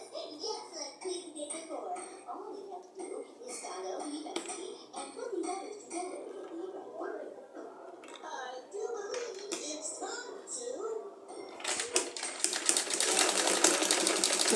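A sewing machine topstitches an invisible zipper with quiet bursts of stitching under a voice talking nearby, then runs in a louder, denser burst at the end.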